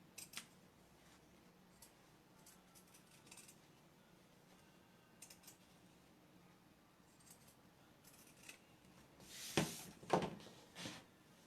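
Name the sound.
straight scissors cutting fabric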